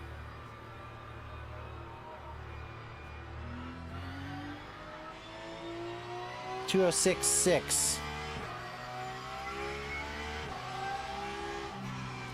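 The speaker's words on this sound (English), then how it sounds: "Car sounds good." A race car engine in a Le Mans racing video game hums steadily and rises through gear changes, with a brief burst of high tyre or skid squeal midway and a voice speaking over it.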